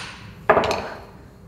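A single sharp hammer blow lands on a freshly pressed-in universal joint with its retaining rings on a Jeep Wrangler driveshaft, a loud metallic strike followed by a short ringing decay, heard alone.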